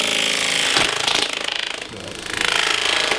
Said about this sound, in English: use a little detail gouge and come around here and trim this up a little bit